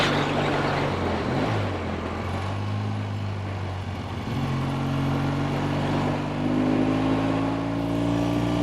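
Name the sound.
1964 Triumph Bonneville T120 motorcycle riding, shifting gears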